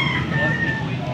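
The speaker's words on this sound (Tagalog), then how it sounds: "Nakatutok lang tayo sa manok" A rooster crows among chickens, a short sustained call heard fairly close over a faint background hum.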